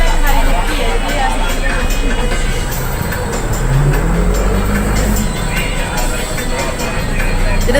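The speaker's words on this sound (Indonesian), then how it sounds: "agak bising sedikit karena kita lagi di angkutan umum yaitu Trans Padang" A steady interior rumble and road hum inside a moving Trans Padang public bus in Padang, with engine drone and rattles under scattered voices and light talking throughout.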